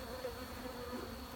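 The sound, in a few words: honey bees buzzing around an open hive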